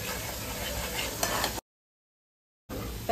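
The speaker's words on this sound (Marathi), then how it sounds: "आता फक्त आपल्याला मसाला फ्राय करून घ्यायचा आहे." Masala spice mix sizzling in oil in a pan while being stirred, a soft steady hiss with light scraping, cut by a second of silence before the frying resumes.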